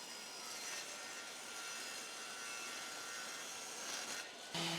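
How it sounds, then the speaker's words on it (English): A table saw trims the edge of a wooden Christmas tree piece, giving a steady, faint high whine and hiss of the blade through the wood, with a brief change in tone near the end. "I'm going to trim that edge on my table saw"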